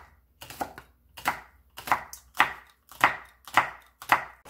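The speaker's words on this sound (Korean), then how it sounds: "홍고추 2개 송송 썰어줍니다." Two red chili peppers are sliced into thin rounds with a knife on a cutting board, giving about eight crisp, evenly spaced chops that sound close and clear with no voices.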